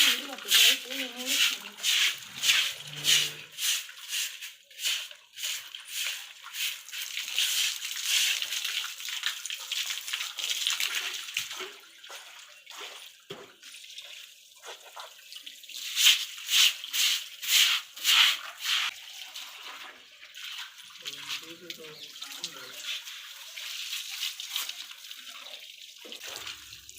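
Water runs and splashes in bursts as cement is washed off a house floor after construction work, rushing strongly at times and then easing.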